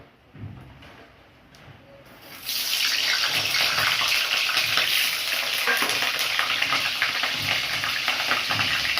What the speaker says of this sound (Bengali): আমি আলুটা ভেজে নেব।